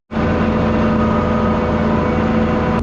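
Engine powering a cattle feed mixer at about 60% throttle, starting abruptly and then holding a loud, steady mid-pitched drone with a constant harmonic hum and no talk over it.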